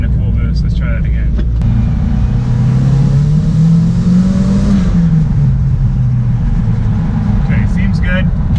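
A blown-up drift car being prepped for a three-day drift event revs hard at full boost, the loud engine note climbing and falling steadily across the whole stretch, close and dominant, with brief voices faintly underneath.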